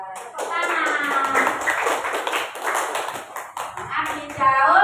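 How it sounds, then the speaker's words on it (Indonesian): A primary school class claps along in rhythm, the taps blending with a speaking voice and children's voices throughout. "Tepuk tangan."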